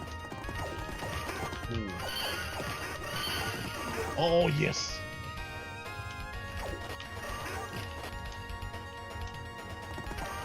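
Horse sounds from the video game Knights of the Round, with a crash and neighing over game music while a person speaks briefly.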